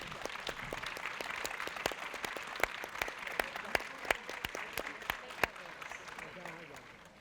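A crowd applauds at a book presentation during a cultural festival, dense steady clapping with sharp individual claps standing out, fading slightly toward the end.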